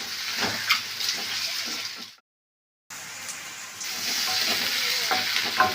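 Onions and tomatoes frying in a pan, a steady loud sizzle with scraping stir strokes throughout, briefly cut to silence partway before the hiss resumes.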